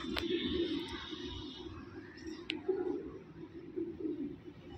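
Fancy pigeons cooing steadily in a loft, a low, throaty repeated coo running throughout with a couple of faint distant chirps, quiet and close.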